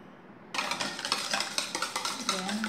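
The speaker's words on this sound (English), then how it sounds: "and then we can mix our vanilla." A spoon or whisk clinks and scrapes steadily around a bowl as vanilla is mixed into lemon cake batter, a close rhythmic stirring that starts abruptly and continues without talk.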